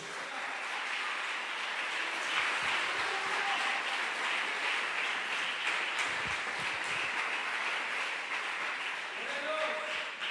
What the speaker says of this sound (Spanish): A su nombre, bríndale un aplauso a Dios.